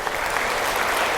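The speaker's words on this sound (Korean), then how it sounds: "박수 한번 쳐보세요." Applause from a church lecture audience, a dense steady patter of many hands clapping together throughout, fairly loud and with no voices over it.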